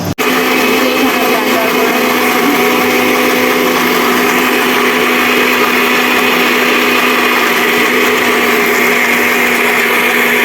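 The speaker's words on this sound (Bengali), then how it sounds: "এটা ব্লেন্ডার করে নিব ভালো করে।" A blender runs steadily at full power, whirring chopped ingredients with green chillies into a paste in a home kitchen, a loud continuous motor drone with a strong high whine lasting the whole time.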